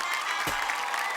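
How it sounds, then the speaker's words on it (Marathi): Studio audience applause on a Marathi television game show, dense clapping running steadily through the short moment at moderate loudness with no voice over it. "एकदा जोरदार टाळ्या होऊन जाऊ दे"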